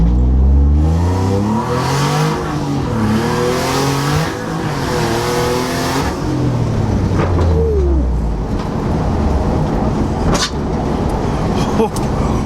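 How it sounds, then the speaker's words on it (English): A turbocharged V6 Hyundai Genesis Coupe drift car revs, rising and falling through gear shifts, with a sharp blow-off valve hiss near the end, loud and close, with voices underneath. "just hearing that blow-off valve, switching gears, it's a thing of beauty."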